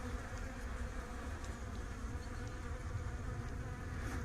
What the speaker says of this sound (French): On voit le frelon qui vient de choper la guêpe là.